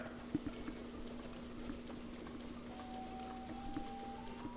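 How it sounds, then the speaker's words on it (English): Horse hooves clip-clop in The Legend of Zelda: Breath of the Wild, a quiet uneven patter of a few distinct hoof hits over a steady low game hum, with a faint rising tone near the end. "this horse is not going for me"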